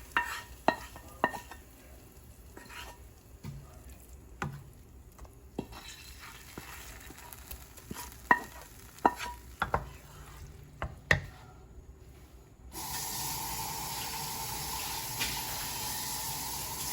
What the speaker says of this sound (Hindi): अब हम तड़का जो है साग के अंदर डाल दें।